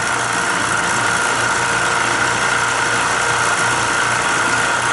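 Refrigerant reclaimer straining as liquid refrigerant is run through it, a loud, steady mechanical drone with a constant low hum and broad rushing noise, unbroken throughout.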